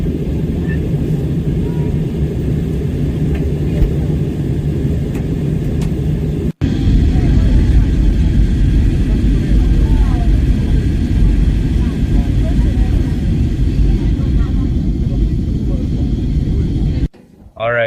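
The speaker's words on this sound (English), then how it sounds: "We're landing in Hurghada in a few minutes." A passenger airplane nears landing at Hurghada airport, heard from inside as a loud, constant cabin rumble and engine roar with a short sharp break, and voices faintly under it.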